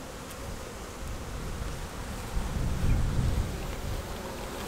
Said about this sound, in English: Right away, you can see the bees are starting to make new wax.